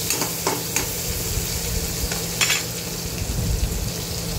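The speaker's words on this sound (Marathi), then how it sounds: "लसूण व्यवस्थित परतून घ्यायचा आहे." Crushed garlic, cumin and curry leaves sautéing in a little oil in a pan, a steady close sizzle and hiss with occasional spatula scrapes and stirring taps.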